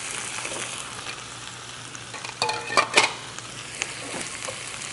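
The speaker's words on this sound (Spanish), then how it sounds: "Ya se está sofriendo, mire la cebollita bien rica, con el tomate y el chile." Chopped onion, tomato and chile frying in a pan, a close, steady sizzle broken by a few scraping strokes of a stirring utensil near the middle, with no talk.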